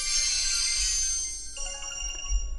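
A phone gives off a short chiming notification tone after 360 gems are bought in Brawl Stars, a bright sustained ring that gives way to a few quick pinging notes, with no voices.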